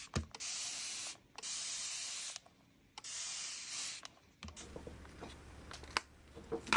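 Bursts of fine water mist from a handheld spray bottle wetting microgreen seeds, three long even hisses with short gaps, close and clear, followed by faint handling noises.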